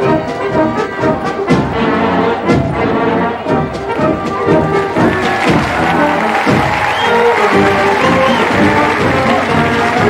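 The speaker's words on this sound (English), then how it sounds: "more applause for the men we all came here to see" Rally crowd applauding steadily, dense clapping with scattered cheers, close and loud, with a voice speaking over it partway through.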